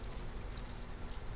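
Rain falls steadily in Detroit: Become Human, a dense, even hiss of drops filling the scene at low volume with no break.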